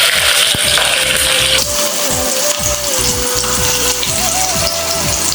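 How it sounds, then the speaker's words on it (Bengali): Chilies spit and sizzle loudly in hot oil, a dense close frying crackle that runs continuously with a faint wavering tone underneath. "মরিচগুলা তেলের মধ্যে দিলাম।"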